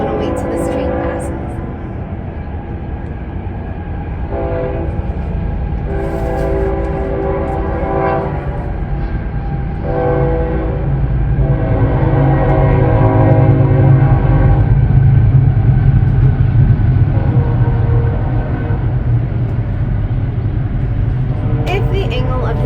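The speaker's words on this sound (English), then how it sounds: "I'm gonna wait till this train passes." A train rolls past close by with a continuous heavy rumble of rail cars, and its horn sounds in several long blasts over the steady roar.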